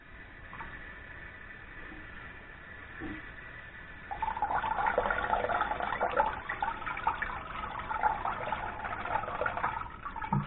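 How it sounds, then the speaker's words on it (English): Water hisses and rushes through a toilet refill valve being flushed out under a rag, a low steady trickle that swells into a louder continuous flow about midway and keeps running to the end. "Put a rag over your top of your refill valve and turn your water on just a little tiny bit"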